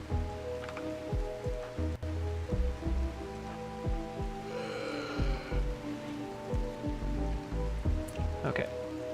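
Rain falling in the video game Rimworld, a steady soft patter under someone talking throughout, with a low hum and small clicks mixed in.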